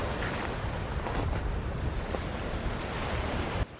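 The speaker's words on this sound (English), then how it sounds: "it was nice to just sit there and watch the ocean lap up against the shore" Ocean waves wash against the shore at the mouth of the Tuki River overlooking Hawke Bay, a steady, loud roar of surf with some wind, continuous and close, then briefly dropping near the end.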